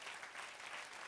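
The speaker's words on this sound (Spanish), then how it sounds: "Sí, dale aplauso." A church congregation at a sermon claps in a brief, even patter. The applause is faint and sounds distant.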